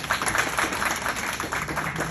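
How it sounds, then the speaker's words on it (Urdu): A crowd at a community gathering in Toronto claps for a family, with steady, dense applause throughout and no speech over it. "تالیاں عمائمہ کے لیے, پوری فیملی کے لیے"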